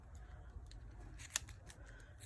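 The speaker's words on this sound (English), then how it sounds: "I always like to use a pair of sharp craft scissors and not my fabric scissors for cutting my yarn" Sharp craft scissors trim a finished yarn pom-pom, giving one crisp, quiet snip over a low background hum, faint and close with no talk.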